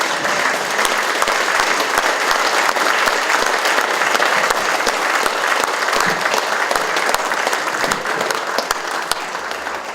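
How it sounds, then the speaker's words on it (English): Steady audience applause fills the room for a motorcycle racing figure's talk, dense clapping continuing at an even level from start to finish with no speech on top. "I think he should have a special clap from us."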